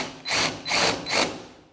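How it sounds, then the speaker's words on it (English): A power drill bores a countersink into a door near its hinges in three short whirring bursts, close and fairly quiet, with no talking. "I'm gonna drill a little countersink in"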